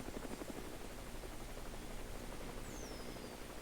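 A helicopter in a video game whirs with a steady rotor chop and broad engine noise, faint and unbroken throughout, with no talking.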